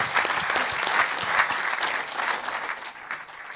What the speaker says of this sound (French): Je crois qu'on peut vraiment l'applaudir